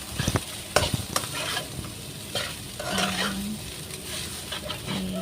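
Fried rice, made with leftover rice, tossed and fried in a pan, with a steady close sizzle, repeated scraping and stirring clatter, and occasional spatula knocks, no talking.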